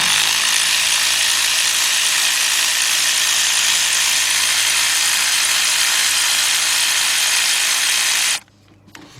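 A cordless ratchet with a 4-inch extension whirs steadily and loudly up close while loosening a spark plug on a 2004 Ford Expedition 4.6. The mechanical buzz runs continuously for about eight seconds, then stops abruptly.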